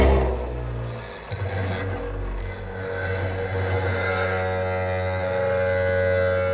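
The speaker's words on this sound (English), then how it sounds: "There's a gyroscope in action." A gyroscope disc spinning very fast makes a steady mechanical whir with a strong, sustained hum that dips briefly, then holds and builds slightly in intensity. It sounds alone, with no talking.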